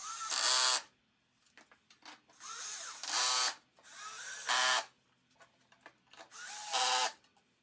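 Power driver running screws into the metal frame of a Wolfcraft workbench during assembly, four separate loud whirring bursts of under a second each, with quieter clicks and handling noise between them.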